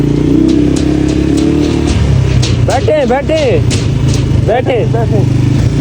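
A loud motorcycle engine runs steadily on a mountain road in Neelum Valley, with a constant drone and rising revs. People talk close by over the engine noise.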